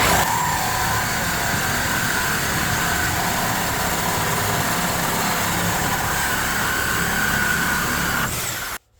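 A reciprocating saw with a Lenox carbide blade cuts through metal, a loud, close, continuous grinding buzz with a metallic whine that holds steady for about eight seconds and stops abruptly.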